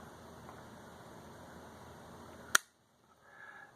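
A Shimano Baitrunner 4000 OC fishing reel engages with a single solid, sharp thump up close, cutting off a steady mechanical hiss, followed by near silence.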